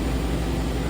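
A steady, loud whir comes from a Leadwell LTC-20BM CNC turning center's spindle running at 1500 RPM. The sound is continuous and brief with no voices.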